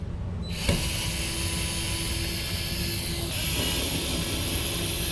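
A DeWALT cordless torque-selection screwdriver motor starts up after a short silence and spins at speed with a close, high, steady whine. Partway through, the whine drops to a slightly lower pitch.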